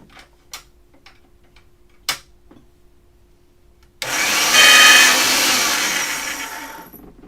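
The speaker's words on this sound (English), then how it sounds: "I'm going to grab some black and get it very thin in the pasta machine, super duper thin." Black polymer clay fed through a hand-cranked pasta machine to roll it very thin: a few sparse clicks, then a steady loud mechanical whirring grind for about three seconds that gradually fades.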